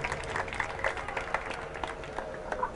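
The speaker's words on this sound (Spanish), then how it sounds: "Le damos un aplauso a Lidia, ya viene para acá" Quiet, somewhat distant audience applause at a promotional magic show, uneven scattered clapping with a murmuring crowd underneath.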